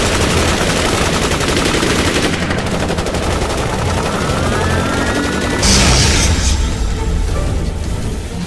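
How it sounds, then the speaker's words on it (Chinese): Rapid bursts of animated gunfire, loud and dense like machine-gun fire, roll on for several seconds, with a sharper blast partway through. "开枪！"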